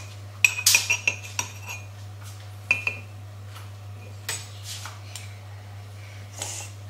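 A spoon clinking and scraping against a mug while mixing mug cake batter, a quick run of sharp close taps followed by sparser clinks over a steady low hum.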